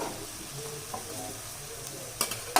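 Vegetables for a seven-vegetable curry, including sweet potato, eggplant, broad beans, raw banana and pumpkin, sauté in a pan with a soft, steady sizzle as they are stirred, ending with a few sharp scrapes and clinks of the spoon.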